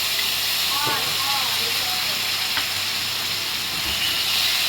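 Sour yogurt thinned with water goes into a hot frying pan and is stirred. A loud, dense, steady sizzle fills the whole stretch, with a faint voice briefly audible underneath.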